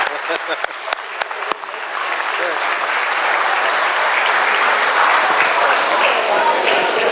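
Audience at a panel discussion breaks into loud, sustained applause, starting with a few scattered claps and swelling into a dense, even wash of clapping that continues to the end.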